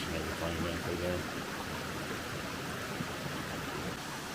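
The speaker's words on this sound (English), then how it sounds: "this is looking down below the falls as the Nancytown Creek flows on down through over all those rocks and everything down through there" Nancytown Creek rushes over rocks below Nancy Town Falls in Mount Airy, Georgia, a steady broadband hiss of flowing water heard close and continuous, with a faint voice briefly at the start.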